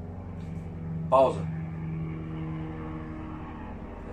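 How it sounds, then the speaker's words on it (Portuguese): A helicopter passes overhead, heard as a steady low rotor drone behind a voice speaking close by, with a brief louder moment early on. "Olha, está a passar o helicóptero agora."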